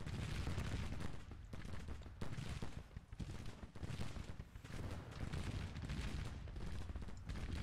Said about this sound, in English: Keep firing, boys. Keep firing.